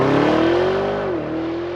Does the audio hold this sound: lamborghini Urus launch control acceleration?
yes